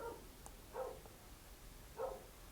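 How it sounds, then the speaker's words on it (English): Dogs barking at home: three short barks, the last two clearer and stronger, spaced over a couple of seconds against a quiet background with no talking. "My dogs are barking at, I have no idea what."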